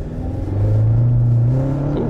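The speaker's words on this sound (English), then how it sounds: "We got some wheel spin in a Wrangler." A 2021 Jeep Wrangler on 35-inch tires with a 3-inch lift accelerating hard from a standstill, a loud low engine drone climbing steadily in pitch for about two seconds, close and alone.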